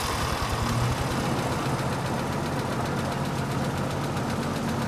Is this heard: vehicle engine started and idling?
yes